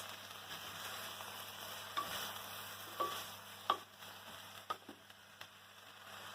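Half-cooked pancit vegetables are stirred in a pan without oil, a quiet steady sizzle broken by several distinct scraping and tapping strokes of the utensil, no voices.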